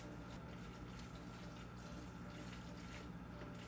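Water running into an empty honey bottle for rinsing during mead making, a steady close rushing flow that hardly varies, with no talking.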